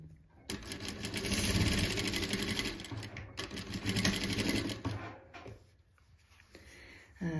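A sewing machine stitches together cut fabric patches for a traditional patchwork quilt, running in fast, close bursts with brief pauses between runs.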